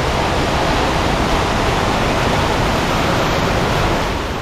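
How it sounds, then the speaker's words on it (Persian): Indoor waterfall splashing inside Iran Mall, a dense, steady roar of falling water, loud and close, continuous throughout with no voices. "خیلی خفم بود این آبشارش"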